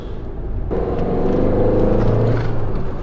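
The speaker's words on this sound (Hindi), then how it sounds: "गजब की स्टेबल गाड़ी है यार ये, लेकिन गजब की नॉइस भी पैदा करती है आपके लिए।" Tata Altroz diesel car on the move, a steady low engine drone and road rumble that swells after a quiet first moment and stays loud and close throughout, with no talk.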